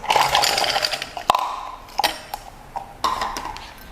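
Ice cubes drop into a glass for a taro milk drink, giving a loud, close clatter followed by several sharp separate clinks as the cubes settle.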